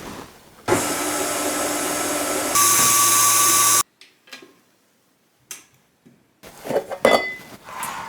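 An electric hand mixer whisks cake batter for a caramel layer cake, a loud steady motor whine that shifts pitch partway through, then cuts off, leaving scattered clinks and scraping of the bowl.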